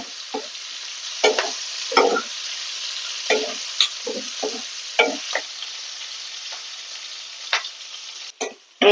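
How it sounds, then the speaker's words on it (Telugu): Capsicum pieces frying in oil for an Andhra-style capsicum curry: a continuous close sizzle punctuated by repeated scraping stirs and clacks of a spatula in the pan. "ఫ్రై అవుతున్నాయండి ఇంకా కొద్దిగా ఫ్రై అయితే తీసేసుకుందాం"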